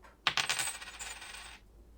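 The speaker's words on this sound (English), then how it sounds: "If you hear a coin drop" A coin drops and rings, a sharp metallic strike followed by rapid bouncing chimes that settle within about a second and a half, clear and close.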